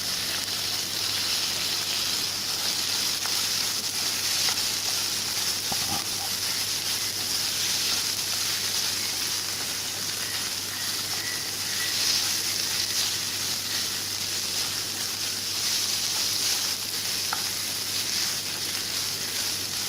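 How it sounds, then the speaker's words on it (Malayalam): A soya chicken mix is stirred in a pan for a chicken roll filling, giving a steady low frying hiss throughout with faint, scattered scraping ticks and no voices. "നമ്മൾ സോയ ചിക്കൻ മിക്സ് ഇതിലേക്ക് ചേർത്ത് നന്നായിട്ടൊന്ന് ഇളക്കി മിക്സ് ചെയ്ത് കൊടുക്കാം."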